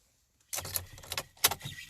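Car keys jangle and clink briefly against a BMW E39 ignition, a few close metallic rattles in quick succession.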